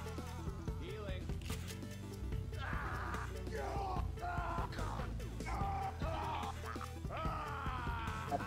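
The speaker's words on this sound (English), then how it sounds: "My character won't stop screaming." Game characters in Left 4 Dead 2 scream and yell repeatedly over a dense, buzzing game soundscape, with rising cries recurring loudly through the clip.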